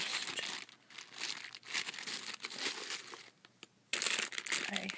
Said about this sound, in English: If you don't like the crinkly noises, I'm sorry.